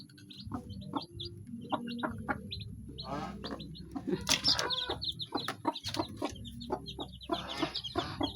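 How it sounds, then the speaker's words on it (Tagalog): Chickens cluck and chirp inside a cage in short, irregular bursts, some close and loud, with no talk. "meron akong mga manok dito sa kulungan na ito"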